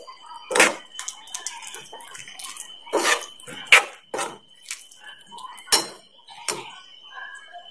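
A spoon scrapes and clanks against a pan while garam masala is mixed into a pea and guava curry, a string of sharp, close knocks at irregular intervals with quiet gaps between them.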